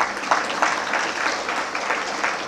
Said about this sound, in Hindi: तालियां बजाएंगे तो क्या जाएगा आपका?